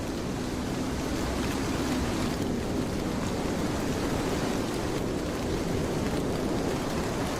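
Storm with rain and wind in an animated cartoon, a steady dense hiss of pouring rain and gusting air throughout, loud and unbroken.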